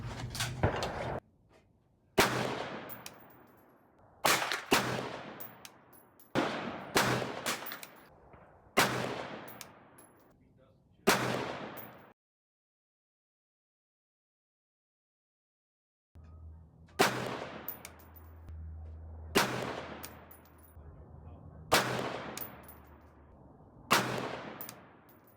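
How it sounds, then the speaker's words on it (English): Loud gunshots from other shooters at an outdoor rifle accuracy match, a series of sharp cracks spaced a couple of seconds apart with long ringing decays, a pause of several seconds, then more shots in the same steady rhythm. "I'm probably going to voice over the rest of this because got other people here shooting."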